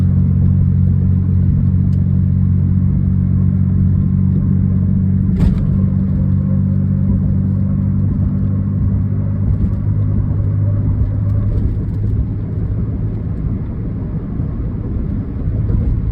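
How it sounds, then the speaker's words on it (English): An older Chevy truck drives through New York City traffic at about 45 mph, its engine and road noise making a steady low rumble close by, with a brief sharp knock midway and no talking. "It's an older truck, but I like driving it."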